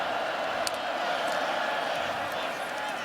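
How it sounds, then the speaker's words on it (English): Steady, dense roar of a college football stadium crowd at a Rutgers vs. Virginia Tech ACC game, continuous and fairly loud throughout with a faint commentator's voice underneath. "Now this crowd trying to get into it."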